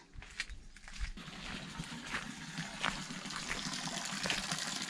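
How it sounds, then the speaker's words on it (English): A water tank on an off-grid barn-conversion homestead in central Portugal drains through a pipe into the garden: a steady, close gushing flow that swells and holds throughout, with no talk over it. "all I've done is drain my entire water tank into the garden"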